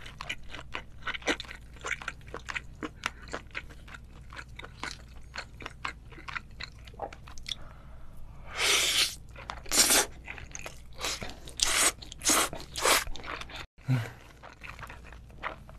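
Whole raw squid eaten up close, steady wet chewing clicks giving way to louder crunching bites in the second half.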